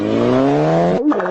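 A loud car exhaust roaring through its muffler, one sustained close rev with a rising buzzy drone that cuts off abruptly near the end, followed by a brief rumble.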